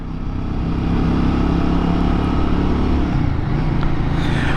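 A Royal Enfield Guerrilla motorcycle engine hums steadily at low revs during a ride, loud and close, with a constant droning tone mixed with wind rush and no clear gear changes.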